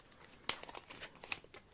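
Tarot cards being shuffled by hand close up, a quiet run of soft papery flicks and crinkles with one sharper snap near the start, and no one speaking.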